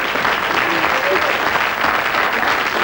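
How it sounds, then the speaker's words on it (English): Loud, sustained applause from a studio audience for a game show contestant, a steady wash of clapping close to the microphone. "So a big round of applause for Joe."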